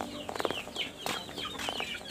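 Hens and a rooster on a small backyard farm give short, close clucks in quick, uneven bursts over a couple of seconds, with no talking.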